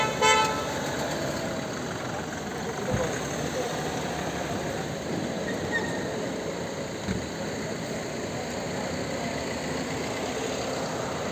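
Vehicle engines drone steadily at a crowded protest by traders and farmers against an agricultural market law, with a horn tooting early on and a few brief knocks, all in a dense continuous roar.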